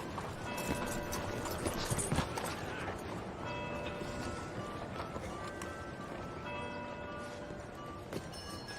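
Horse hooves clip-clop steadily in Red Dead Redemption 2, a continuous rhythmic patter of a horse on the move at moderate volume, with faint background ambience and occasional chimes.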